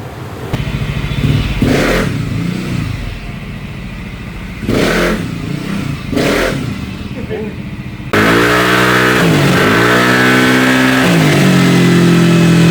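A motorbike engine with a refaced, degree-modified pulley set revs hard toward top speed, rising and falling in loud repeated surges, then holding a steady high whine near the mic; a voice talks over the early revs.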